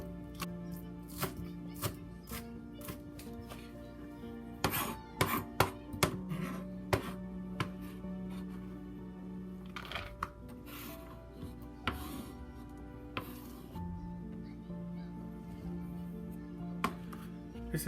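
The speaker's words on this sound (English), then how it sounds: "And we cut from, and we cut it small. Try to cut it small like this, not too big." A knife chops eggplant into small pieces on a cutting board, quick irregular taps clustering in bursts over a low steady hum, close and fairly quiet, with no voices.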